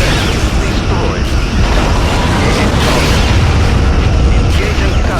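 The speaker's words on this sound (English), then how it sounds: "Captain, enemy shields are down. Romulan vessel destroyed." A Romulan vessel blows up in the space combat game Star Trek Legacy, with loud, dense rumbling booms and bursts filling the whole stretch without letup.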